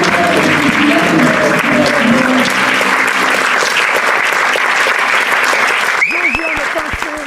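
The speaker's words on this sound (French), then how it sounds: "Applaudissements, s'il vous plaît" A studio audience at a French televised stage comedy show applauds loudly in a dense, steady burst of clapping that fills the room, with a voice cutting in near the end.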